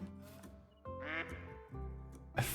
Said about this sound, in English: Oh, there's a nice mallard duck there.